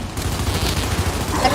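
Gears 5 gunfire rattles in a short, rapid burst while an enemy is being shot, steady and fairly loud over its brief length.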